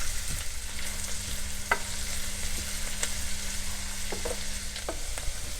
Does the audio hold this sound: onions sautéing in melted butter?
yes